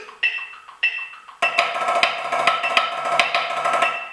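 Drumline snare playing a measure with accents, flams and rolls: two sharp opening strokes, then a dense, loud run of rolled and accented hits with crisp ringing rimshot-like peaks.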